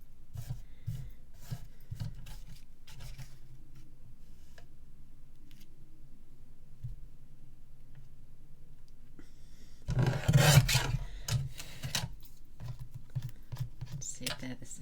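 A piece of card is trimmed for a handmade honey bee greeting card, giving a brief, scratchy rasping cut in the middle. Quiet tapping and handling noises come before and after it.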